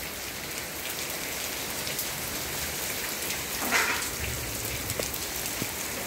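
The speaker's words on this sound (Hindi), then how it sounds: "तो बहुत ज़्यादा बारिश है" Heavy monsoon rain pours steadily on a surface in a farming area, a dense continuous hiss with scattered drop impacts, no voices.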